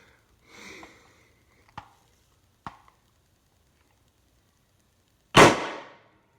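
A First Strike FSC blaster running on high-pressure air at 1100 psi with an 8-inch Tiberius barrel fires once. The shot is a sharp, loud burst of air that trails off, preceded by a few soft clicks and a brief hiss.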